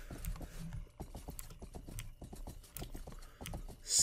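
Horse hooves clip-clop in the video game Rustler, a steady run of crisp, fairly quiet hoof strikes on a road with no talk over them.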